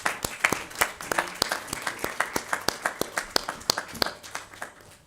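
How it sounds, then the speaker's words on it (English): Audience applause at a jewellery industry conference on lab-grown diamonds, a steady patter of many hands with sharper individual claps standing out, moderately near, continuing without talk before tapering off at the end. "Can we have a round of applause, ladies and gentlemen, please?"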